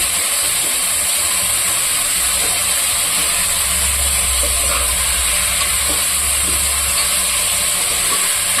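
Tomatoes for a Tamil-style country chicken curry sautéing in a pan, giving a steady, close hiss and sizzle with no pauses and no talking.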